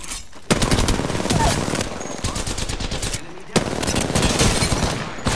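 Apex Legends gunfire rattles in rapid automatic bursts, loud and close, with a short pause before the shooting resumes.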